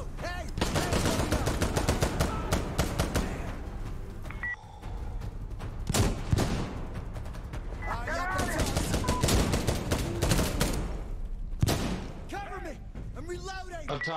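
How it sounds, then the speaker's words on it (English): Rapid gunfire and explosions from the tactical shooter game Insurgency: Sandstorm, loud and nearly continuous bursts of shots and blasts, with a player talking over the chaos. "all the explosions."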